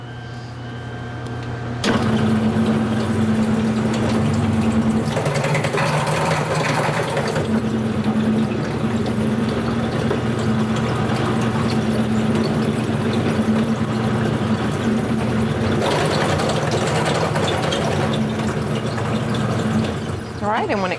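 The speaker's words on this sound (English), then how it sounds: "but we're going to put it through our dough machine." A motorized dough machine rolls out pizza-style dough, a steady mechanical hum and whir starting abruptly and running loud and continuous for most of the stretch, with a voice talking over it.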